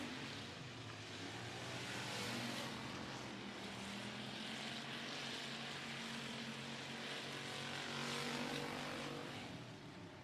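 Race cars roar around a quarter-mile high-banked oval speedway during a Pure Stock race night, a dense, continuous engine drone that swells and fades slightly as the pack circles, steady and fairly distant.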